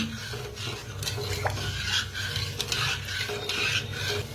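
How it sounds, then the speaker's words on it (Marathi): A spoon scrapes and stirs sugar and water in a pot as syrup cooks for gulab jamun, a continuous close rubbing with light metallic clinks and no speech. "तर आता हलवून घेऊया। हलवून एक चांगलं शिजवून घेऊया। साखर हे विरघळून घेऊया पूर्ण।"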